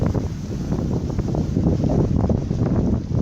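A steady breeze blows across the microphone on a sailboat under set sails, making a continuous, loud, buffeting rumble with no talking.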